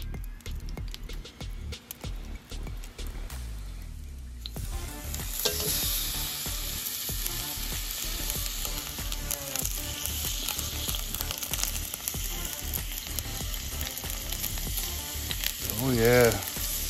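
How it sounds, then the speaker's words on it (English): A 50-day dry-aged bone-in ribeye sizzles loudly on a cast iron skillet, a steady broadband hiss that swells once the meat hits the hot pan and continues with crackles and pops throughout. "We got a 50-day dry-aged ribeye right here, and I'm about to put them on the skillet here"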